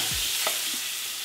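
Salmon fillet being turned in a hot frying pan with butter, giving a steady close sizzle with a brief scrape or stir of the utensil partway through.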